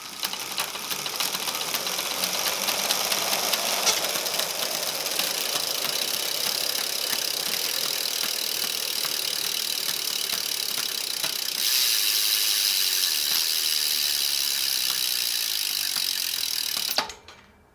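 A sticky Mavic bicycle freehub spins and fails to freewheel, giving a loud, close, continuous mechanical ratcheting whir that holds steady for a long stretch and then cuts off abruptly.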